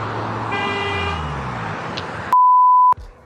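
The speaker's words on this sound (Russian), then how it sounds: "он сигналит." A car horn sounds in one loud, steady blast lasting about half a second, cutting sharply through a continuous hum of street traffic heard from a bicycle during a city ride-to-work event.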